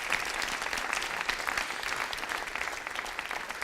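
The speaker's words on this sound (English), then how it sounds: "Please give them a warm round of applause." Seated conference audience giving panelists a warm round of applause, a steady, even patter of many hands clapping throughout with no voices over it.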